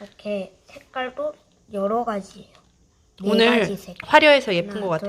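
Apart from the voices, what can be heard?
No everyday noises stand out.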